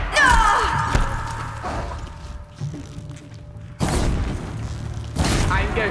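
Heavy booming blasts and crashing impacts from combat in Horizon Zero Dawn, with loud bursts returning near the end amid noisy action.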